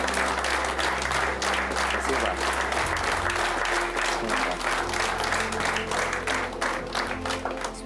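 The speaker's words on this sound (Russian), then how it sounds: "Итак, мы объявляем начало презентации под ваши бурные аплодисменты." An audience at a book presentation applauds steadily for several seconds with dense, even clapping over a low background hum.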